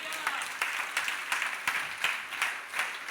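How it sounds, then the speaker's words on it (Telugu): Rhythmic clapping from a church congregation at a prophetic ministry service, steady hand claps in a regular beat filling the room, with no voices over them. "నమ్మితే చప్పట్లు కొట్టు"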